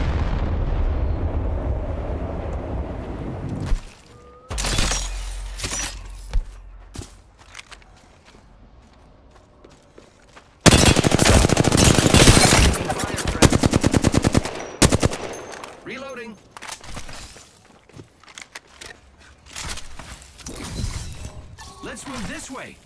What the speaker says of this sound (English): Getting shot at. Firing.